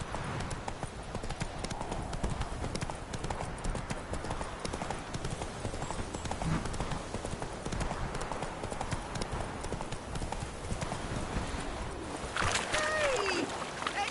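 Hooves of the horse Roach clip-clop steadily in The Witcher 3: Wild Hunt, a continuous trotting rhythm under dense game ambience, with a brief whistling tone late on.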